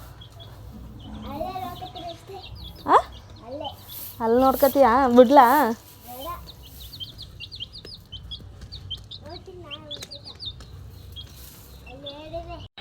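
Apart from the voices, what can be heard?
chickens clucking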